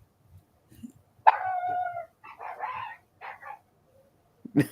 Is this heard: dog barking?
yes